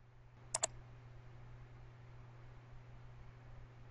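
Two quick mouse clicks close together near the start, sharp and faint over a steady hum and background hiss, then quiet.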